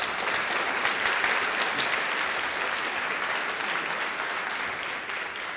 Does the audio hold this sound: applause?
yes